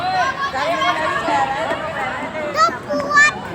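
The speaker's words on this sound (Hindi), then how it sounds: "यहाँ देखो कितनी भीड़ है भाई" Crowded park with children playing, a lively close hubbub of kids' voices, shouts and chatter overlapping, with occasional higher squeals rising above the babble.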